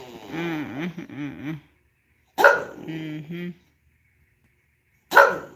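A female dog makes a series of vocal sounds up close, a drawn-out wavering whine or howl followed by sharp barks with quiet gaps between them.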